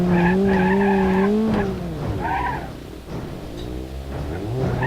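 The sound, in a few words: car bumper scraping and snagging on bumps, BeamNG Drive video game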